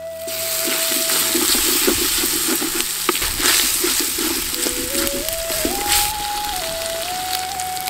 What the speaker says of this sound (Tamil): இப்ப நம்ம எடுத்து வச்சிருந்த ஒரு தக்காளியை சேர்த்துக்கலாம்.